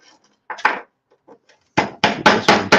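A piece of forged metal is struck against a workbench at a forge, giving a few sparse sharp knocks and then a quick, loud cluster of four or five heavy hits close by.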